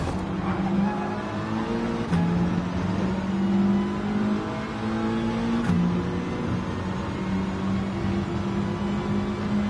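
Race car engine in the racing game Gran Turismo 7, holding a steady droning hum with gear-change pitch steps, loud and continuous throughout with no talk.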